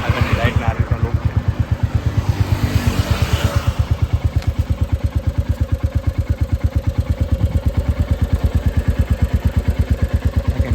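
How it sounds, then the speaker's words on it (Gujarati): A Royal Enfield Military Black 350 motorcycle idles close by, its single-cylinder engine thumping in a steady, even rhythm for the whole stretch, with a brief burst of hiss near the start. "સ્ટાર્ટ થઈ ગયું છે બાઇક. અને હવે પહેલાં જેટલું નહીં, નોર્મલ જ અવાજ આવે છે."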